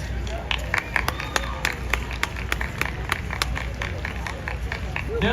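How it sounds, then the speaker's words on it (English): Crowd at an outdoor New York open-streets event clapping, with sharp individual claps standing out from a busy applause bed and street murmur, moderately distant. "can you keep your round of applause going?"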